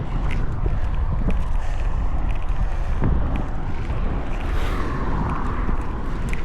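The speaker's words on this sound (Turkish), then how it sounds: "öyle tatlı rüzgar esiyor ki" Wind buffets the microphone in a steady, roaring rush with gusty swells, loud and continuous from start to finish, on the Gökbel climb by bicycle.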